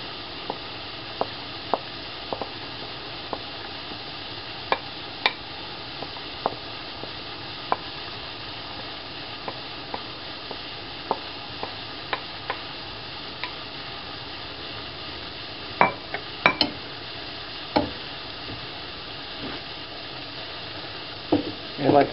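Rice sizzles and fries in a pan with a constant hiss, broken by scattered clicks and scrapes as it is stirred, moderately close and without talk.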